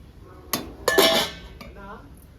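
A metal lid goes onto a pot of alasanda charu, a black-eyed pea stew, with a sharp clank followed by a brief ringing rattle as it settles, close and loud, then quiet.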